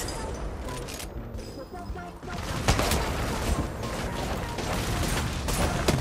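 Kraber sniper rifle shots ring out in a video game, sharp loud cracks amid busy, noisy gameplay sound, with someone talking excitedly over the action.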